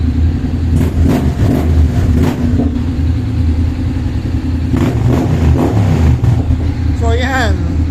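Honda X-ADV scooter engine revving up repeatedly in short bursts, loud and close, with a steady idle between revs and a person talking over it.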